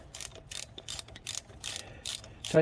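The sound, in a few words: ratchet tightening brake block bolts on 1997 Ford Mustang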